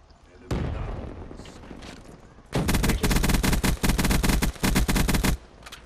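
Automatic gunfire aimed at sentry guns in Call of Duty Black Ops 3, a loud rattling stream of rapid shots in several bursts after a single heavier blast, with talking faintly beneath.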